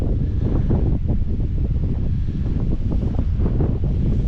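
Strong wind buffeting a microphone outdoors in a field during metal detecting, a continuous loud rumbling roar with gusty fluctuations and no voices.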